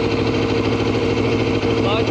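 A Yamaha R6 sport motorcycle engine runs at a steady, loud idle with a dense, even mechanical rumble throughout, while a person talks over it.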